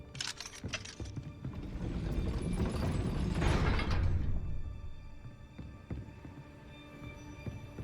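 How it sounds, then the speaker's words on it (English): A gate mechanism raising in Hogwarts Legacy, a grinding, ratcheting clatter of gears that swells for a few seconds and then fades to a quieter whir with scattered clicks. "That looks as if it might raise the gate."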